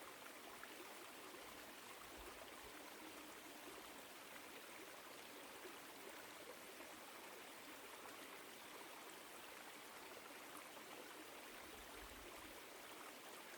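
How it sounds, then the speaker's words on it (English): Woodland stream in autumn flowing over rocks, a steady, even rush and babble of water that continues unbroken throughout, soft and alone. "Maybe it's the sound of the water flowing over the rocks."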